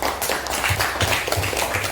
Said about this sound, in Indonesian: Kasih tepuk tangan untuk kelompok satunya.